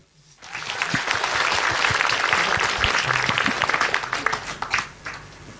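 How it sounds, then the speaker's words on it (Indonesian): An audience at an Islamic television talk show breaks into sustained, fairly loud applause that rises quickly, holds steady, then thins into scattered claps near the end. "Sini si kecil. Tepuk tangan dulu."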